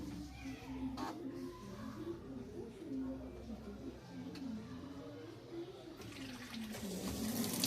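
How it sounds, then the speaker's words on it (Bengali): Water flows into an LG washing machine after its filter is cleaned, a continuous gurgling, rushing stream at moderate level that swells slightly toward the end. "জল আসতে শুরু করেছে, খুব সুন্দর জল আসছে"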